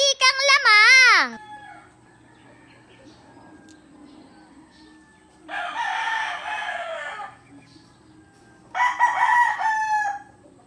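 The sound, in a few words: battle cock rooster crowing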